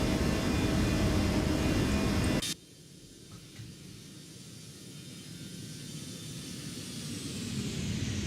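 In an Airbus A319 flight simulator, a loud steady roar of airflow and engines cuts off abruptly, as if the landing gear has retracted. A quieter cabin drone follows and slowly builds again.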